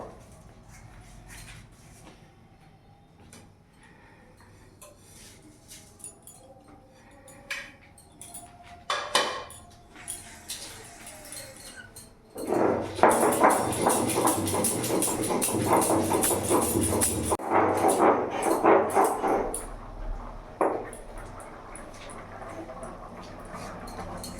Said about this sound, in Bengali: এটাকে ভালো করে আমি শিলে বাটবো।